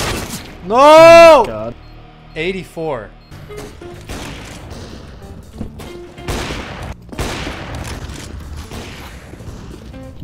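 Gunfire in a first-person shooter game, sharp shots scattered through the stretch in quick bursts, while a player shouts and exclaims over them.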